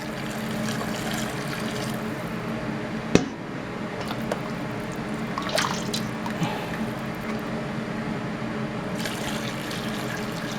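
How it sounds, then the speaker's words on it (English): Rabbit bone broth pours and trickles steadily through a sieve, with soft squishing and a sharp clink partway through. "dip this into my broth and then pour it through the sieve to catch any little pieces of meat"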